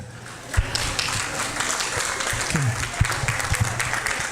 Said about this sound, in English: Let's give Lizette applause.